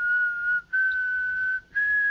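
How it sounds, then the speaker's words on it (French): A person whistles a melody, three clear sustained notes separated by short breaths, close and alone. "Ivan se mit à siffler afin de reproduire la mélodie en question."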